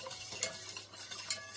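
A spoon stirs a mixture with added water in a pot for Albanian baklava, giving soft scraping and clinking strokes with a couple of sharper taps, fairly quiet and without any talk.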